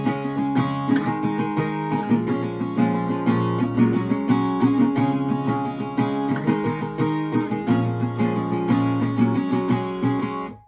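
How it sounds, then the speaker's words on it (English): Acoustic guitar strumming a chord progression from the song with a steady rhythmic pattern, bright and close, played alone without voice until it stops at the end. "So just to play this chord progression once through using strumming pattern 2"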